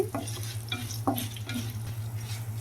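Ivy gourd fries lightly in a pan and gets stirred, with a soft continuous sizzle broken by several quick scraping strokes of a spatula, close but fairly quiet, no talking.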